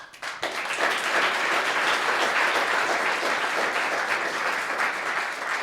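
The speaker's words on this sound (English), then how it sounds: "I want to give everybody else that came up here and did their thing a round of applause." An audience at a 2024 graduation ceremony breaks into applause, a full, even roar of clapping hands that swells quickly and holds steady, loud and close, with no talking over it.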